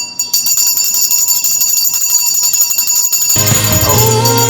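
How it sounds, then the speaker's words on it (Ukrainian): A loud, continuous electric school bell rings steadily as the first bell on September 1 at a school in Odesa, Ukraine, with a buzzing hum joining in toward the end. "Сьогодні, 1 вересня, в День знань, традиційно перший дзвоник."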